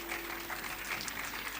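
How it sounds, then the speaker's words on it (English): Students clap at a felicitation event honouring an alumnus astronaut, a steady diffuse patter of applause from a sizeable group with a faint low hum beneath, with no talk over it. "I think I can hear some students clapping"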